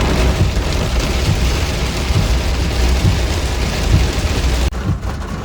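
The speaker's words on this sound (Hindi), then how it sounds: "देखो दोस्तों बारिश हो रही है बहुत तेज़" Very heavy rain pours down near a tiger reserve in Jim Corbett. It makes a loud, constant, dense hiss close by, with low rumbles underneath, then drops off sharply near the end.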